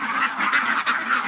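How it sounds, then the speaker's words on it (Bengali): A flock of ducks held for sale quacks continuously up close, overlapping nasal honks forming a dense, unbroken din with no speech. "এই হাঁসগুলো ভাই বিক্রি করা হবে"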